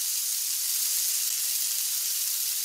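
Pancakes cooking in a hot pan in a cartoon kitchen give a steady, bright sizzling hiss that holds at an even level without a break from start to finish.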